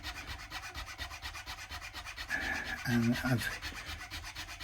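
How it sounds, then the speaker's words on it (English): A Hosco nut slot file rasps back and forth in the nut slot of a Squier Affinity Strat guitar, making a soft, steady scraping that turns louder and fuller near the end, close by with no talking. "So this is a Hosco nut slot file"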